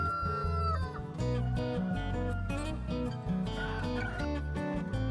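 Chickens on an eco-friendly farm cluck and crow amid a busy bed of music, the bird calls mixed in and fairly quiet.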